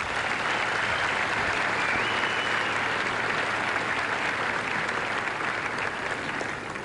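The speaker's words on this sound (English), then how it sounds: "A warm round of applause for those people would indeed be appropriate" Applause from a tennis crowd at the 1992 NSW Open in Sydney rolls on as a dense, steady clapping wash for several seconds, loud and even, with only faint voices beneath.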